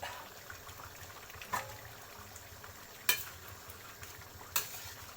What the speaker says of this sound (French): voilà le sakasaka, il est là en train de cuire